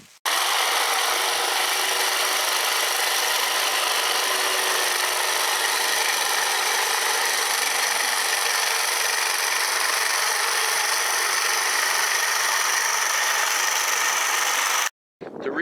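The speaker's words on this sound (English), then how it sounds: "The reason why I use a cordless hedge trimmer is that you can see when I cut it, I am laying the winter rye flat on the ground" A cordless hedge trimmer cuts through standing winter rye in a no-till vegetable garden, running as a loud steady buzzing rasp for about fifteen seconds before stopping briefly and starting again.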